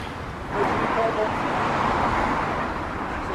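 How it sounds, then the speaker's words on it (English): Steady road traffic from a main road beside the Peak Forest Canal rumbles as a continuous broadband wash, swelling slightly as a vehicle passes, heard from moderately near. "You can hear me over the noise of the traffic."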